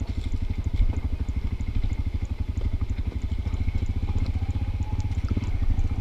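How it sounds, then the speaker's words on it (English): A motorcycle-like engine idles while engine-braking down a steep hill in Vietnam, a steady low, fast-pulsing thrum that stays close and even throughout. "Allowing the engine to do the braking and basically idling down the hill"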